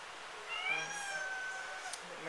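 A pet cat meows to be let in, one drawn-out, wavering meow at moderate distance with a quieter tail, over faint room background and no talk.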